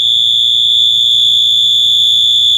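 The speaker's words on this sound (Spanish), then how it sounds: "la alarma nunca se va a silenciar, a no ser que vengamos y movamos la puerta" A 12V relay door alarm sounds a steady, loud, piercing electronic tone that holds unbroken the whole time, with a faint low hum beneath it.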